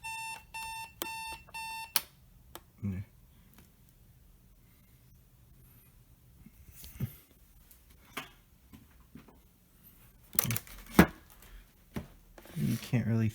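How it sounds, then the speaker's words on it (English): The buzzer of a Windsor 2491 AM/FM projection alarm clock radio sounds as a series of rapid, evenly spaced electronic beeps for about two seconds, followed by quiet handling clicks and knocks. "Here's what the buzzer sounds like if you want to hear it."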